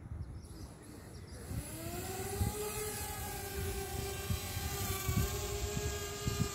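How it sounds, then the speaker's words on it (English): A small consumer drone flies outdoors, its steady rotor whine shifting slightly in pitch as it lifts off over a constant faint hum, with light thuds and movement noise beneath. "Okay, now we're going to fly the drone."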